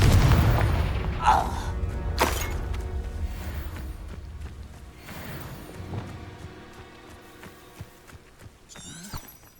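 Confringo blast spell cast in Hogwarts Legacy, a heavy booming explosion at the start that fades through several seconds of rumbling debris and game effects, with a voice briefly calling out.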